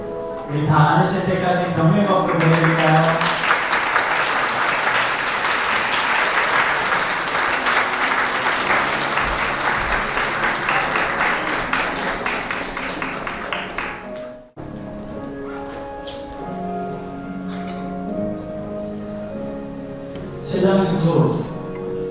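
Wedding guests applaud as the bride and groom greet their parents, with long, loud, continuous clapping from a large crowd that cuts off abruptly, then soft background music with a brief voice near the end.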